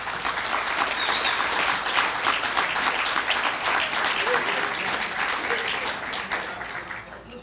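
Steady audience applause at a lifetime achievement award ceremony honoring a school superintendent, a dense, continuous roar of many clapping hands filling the room and holding level throughout before easing slightly at the end.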